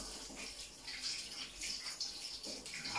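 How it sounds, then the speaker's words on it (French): Running tap water over fingers as butter is rinsed off them at a kitchen sink, a steady splashing flow with uneven surges, close and alone with no talking. "je me rince les doigts, forcément"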